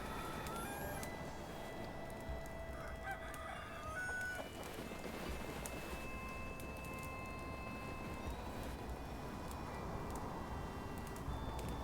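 Chickens in a chicken barn in the game Clanfolk give a faint continuous backdrop of clucks and crowing, mixed into a dense bed of ambient noise that lasts throughout.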